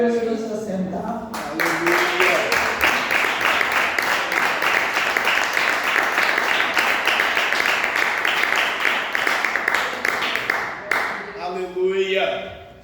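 A church congregation claps together in a burst of applause that starts sharply, holds for about nine seconds, and cuts off, with a voice speaking briefly before and after.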